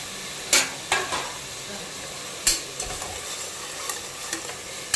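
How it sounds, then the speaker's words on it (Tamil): Tomatoes sautéing in a pan for a mutton and fresh field bean curry, a steady sizzle with several sharp scrapes and clacks of a spoon stirring, no voices. "தக்காளி போட்டு தக்காளி நல்லா வதங்கி வரணும்."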